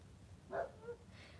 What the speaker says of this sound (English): Sorry, y'all, if y'all hear my dog in the background.